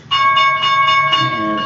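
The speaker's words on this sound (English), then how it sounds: "And there's the bell." A stock market opening bell rings in one steady, sustained metallic tone, loud and close, holding evenly throughout with no talk over it.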